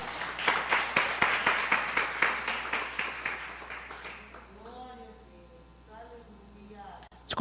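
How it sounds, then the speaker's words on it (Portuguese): A church congregation at Igreja de Nova Vida do Catete claps in a steady, rhythmic beat for about four seconds. A voice then speaks over a quieter background. "Aplauda ao Senhor com o seu melhor"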